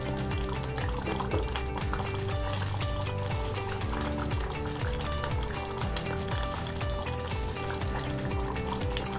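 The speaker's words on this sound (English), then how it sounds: "So I'm just going to let that cook for a couple of minutes now to cook that corn flour out." Shashlik sauce thickened with corn flour simmers in a pan, a continuous bubbling and popping liquid sound running steadily beneath loud background music.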